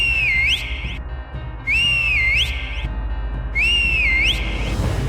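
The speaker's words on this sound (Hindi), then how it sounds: "पीछे से लगातार सीटी की आवाज आती रही" Ghost's whistle in a spooky story: three long, loud wavering whistles rise and fall roughly every two seconds over a low droning background, each tone sliding down and back up before cutting off.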